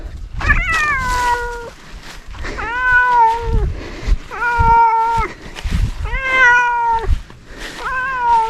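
A cat meows loudly and repeatedly, five drawn-out cries at a steady pace, close by with faint background noise between calls, in a rural Sundanese village during harvest.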